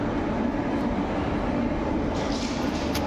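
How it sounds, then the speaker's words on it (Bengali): Busy ambience at Old Delhi railway station, a steady wash of crowd murmur and rail noise with a low rumble throughout and a few faint higher sounds near the end. "তো বন্ধুরা আমরা ওল্ড দিল্লি স্টেশন চলে এসেছি"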